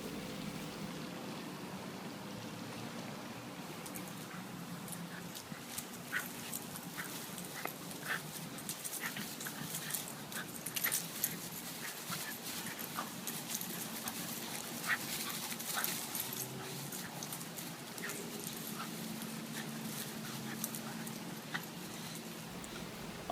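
Two Basenji dogs tussling in the grass, with faint whimpers, yips and scuffling bursts over a low outdoor background, fairly distant and quiet.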